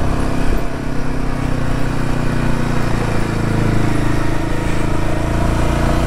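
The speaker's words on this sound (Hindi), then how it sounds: "बहुत आराम से चढ़ती है हिमालयन, इतना तो है इसमें जोर यार।" A Royal Enfield Himalayan 450 motorcycle climbs a steep public road in first gear. The engine drones steadily and loudly throughout, with a constant rumble and wind noise and no talking.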